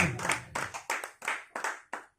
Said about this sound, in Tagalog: Pumalakpak po muna ang lahat sa ating pinakamamahal na Panginoon